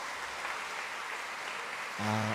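A church congregation at a Simbang Gabi Mass claps steadily, a soft, even patter heard from a distance, until a brief tonal sound comes in near the end.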